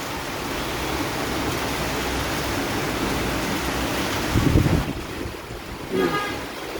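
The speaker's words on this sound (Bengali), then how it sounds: "তবে প্রচুর পরিমাণে বৃষ্টি হচ্ছে" Heavy monsoon rain pouring outside a window, a dense steady hiss of falling water with a couple of brief louder gusts or splashes near the end.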